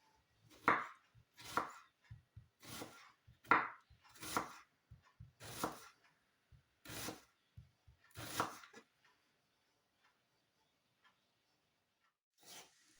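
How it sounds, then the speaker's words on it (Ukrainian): A knife slices a quartered onion into thin slices on a board for a pork-heart salad, a steady run of crisp, close chopping strokes that pauses after about nine seconds, then one lone stroke near the end. "розрізаю цибулину на 4 частини і далі нарізаю тоненькими скибками"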